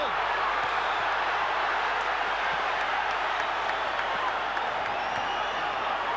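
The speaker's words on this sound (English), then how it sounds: "Crowd lights up as Golota lands a combo." Boxing arena crowd at the Golota versus Riddick Bowe heavyweight fight roaring steadily as Golota lands a combination, a dense, sustained wash of cheering with no lull.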